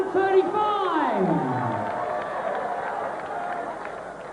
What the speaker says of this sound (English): the crowd giving it big licks